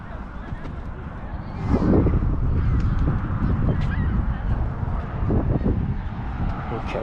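Ducks and geese honk at the Linesville spillway, a dense near flock honking over crowd noise and voices.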